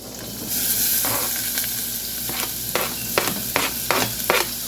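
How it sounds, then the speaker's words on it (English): Onions sizzle in a teaspoon of butter in a pan for a tomato onion soup, loud and close, as a stirring spoon scrapes through them in a run of quick rhythmic strokes. "Now let's put in our onions."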